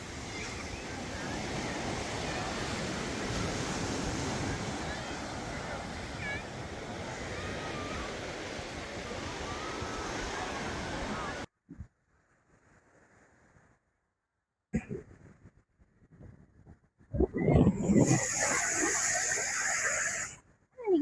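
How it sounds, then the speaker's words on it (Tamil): Waves wash in steadily at Cherai Beach in Kerala, mixed with wind buffeting the microphone. The surf roar breaks off into near silence, then returns in short loud bursts. "இப்போ நம்ம செரை பீச்சுக்கு தான் வந்திருக்கோம்."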